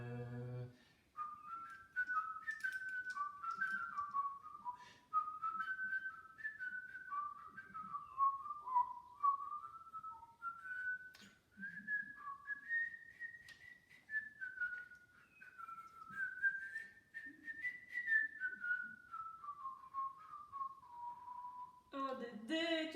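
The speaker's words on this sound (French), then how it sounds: "tu sais aussi siffler" A person whistles a wandering melody alone for about twenty seconds, clear and close, with short breaths between phrases and a brief voice at the very start and end.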